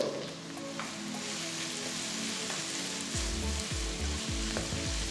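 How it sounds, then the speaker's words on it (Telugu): Onions and curry leaves sautéing in a pan give a continuous soft sizzle, with faint spatula scrapes and stirring clatter joining in the second half. "అంతవరకు దీన్ని బాగా మనం ఇట్లా సాటే చేయాలి"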